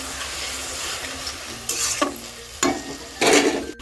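Malabar spinach curry simmers in a pan with a soft steady sizzle after water is added, broken by three short bursts of scraping as a spoon stirs the mixture, close and fairly quiet.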